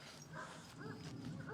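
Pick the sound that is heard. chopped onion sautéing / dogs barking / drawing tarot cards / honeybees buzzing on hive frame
dogs barking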